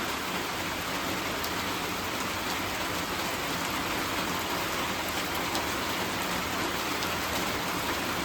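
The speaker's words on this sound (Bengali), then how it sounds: "খুব বৃষ্টি- বৃষ্টি নামলো। বৃষ্টি না শুরু হয়ে গেল।" Heavy rain falls steadily in a dense, even downpour during the monsoon season, a loud, continuous hiss with no voices and no breaks.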